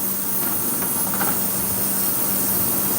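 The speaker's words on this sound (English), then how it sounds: "Sorry, I got the fans on. I know that's loud." Loud fans run in a workshop, a dense constant whooshing rush with a steady low hum, unbroken and filling the space for the whole stretch.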